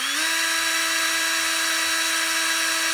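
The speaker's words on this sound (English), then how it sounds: "I'm gonna drill a little hole in" A small power drill whines at a steady high pitch, drilling a small hole in ABS plastic, running continuously and close by with no talking.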